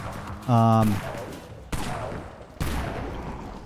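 Two sharp, loud Dawn Carbine gunshots ring out about a second apart in the Dead Frontier zombie video game, each followed by a fading echo, after a short tonal in-game sound.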